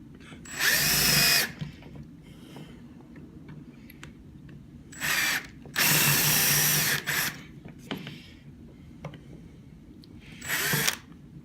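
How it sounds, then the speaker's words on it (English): A power drill drills the rivet heads off a Waterous foam system control box in four short, loud bursts of a second or so each, separated by quieter pauses with faint handling noises. "You just drill the heads off just like that"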